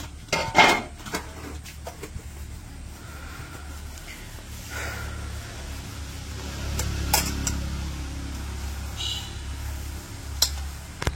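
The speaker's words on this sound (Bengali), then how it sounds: "দুপুরবেলা খাওয়া দাওয়ার পরে থালবাটিটি জমায় রাখা হয়েছিল, ধোয়া হয় নাই, এখন আর কি ধুয়ে নিতেছি" Plates and bowls left over from lunch are washed outdoors in a village, with scattered clinks and knocks of dishes, water sloshing, and a few louder clatters against a low background.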